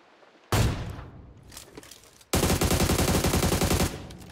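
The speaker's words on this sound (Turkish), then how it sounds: "Kapıdan sıkıyormuş ya." Video game gunfire from an enemy shooting through a door: a loud burst of rapid automatic fire, a short pause with scattered shots, then a longer sustained rattling volley, close and harsh.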